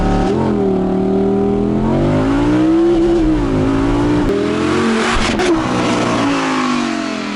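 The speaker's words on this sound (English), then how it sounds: "kick it down and then get off the brake and the car goes off" An Audi R8 or Lamborghini Huracán launches hard from a standstill using launch control, its engine roaring loudly and climbing steadily in pitch through the gears, close and continuous with a brief shift break partway.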